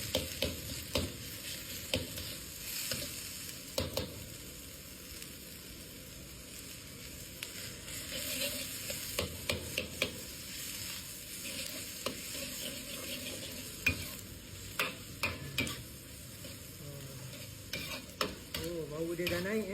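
Butter frying in a pan while a spatula stirs for chicken rice: a steady sizzle runs throughout, broken by repeated scraping and clinking strokes at an uneven pace.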